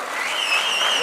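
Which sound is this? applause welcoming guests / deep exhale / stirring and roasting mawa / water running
applause welcoming guests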